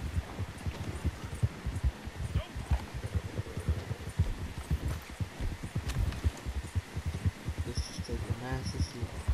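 Horse hooves clip-clop in a steady rhythm through Red Dead Online as a rider moves through wet, snowy weather, the dull thuds repeating under people talking.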